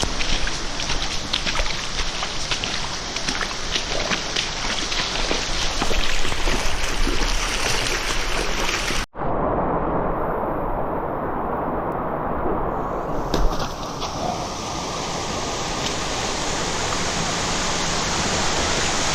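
Creek water in Zion canyon rushes in a steady broadband hiss, close and loud, with a brief cut partway through and the flow continuing unbroken afterward.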